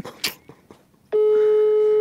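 Ringback tone on an outgoing telephone call: after a few faint clicks, a steady loud tone begins about halfway through and holds to the end, with no voices.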